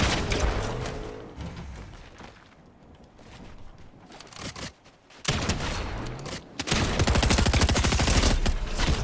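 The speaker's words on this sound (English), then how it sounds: "He literally just SMG sprayed me from full to zero." Video game gunfire from an SMG and a shotgun, with sharp bursts early on, then a quieter stretch, then loud, dense rapid fire that lasts until the end.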